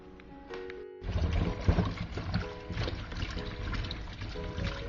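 Running water pours and splashes steadily, close by, as sweet potato and yellow yam are rinsed under a tap, with the flow strengthening after a brief pause.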